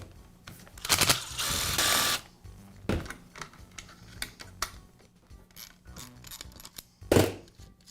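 Plastic cover being pried and pulled off the handle of a Makita demolition hammer: scattered clicks, scrapes and knocks with a couple of louder rasping bursts, close and intermittent with no talking.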